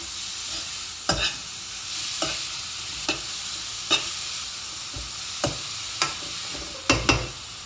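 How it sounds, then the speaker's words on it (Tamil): Beetroot sautéed in a pan for halwa, with a spoon scraping and stirring in sharp, regular knocks about once a second over a soft, steady sizzle. No one talks. "இதெல்லாம் கொஞ்சம் நல்லா சாட்டே பண்ணிக்கலாம்"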